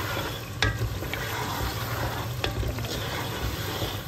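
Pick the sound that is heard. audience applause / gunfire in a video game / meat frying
meat frying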